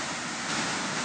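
Steady broadband roar of rushing white water below a mill dam, loud and continuous, with no voices, like turbulent water pouring close by.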